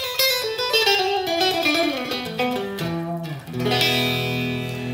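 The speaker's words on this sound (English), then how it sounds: "It's a single coil pickup, sounds like this." A Schecter 7-string electric guitar through a single coil pickup plays a quick descending run of bright, ringing notes, then lands on a sustained chord, heard up close and fairly loud.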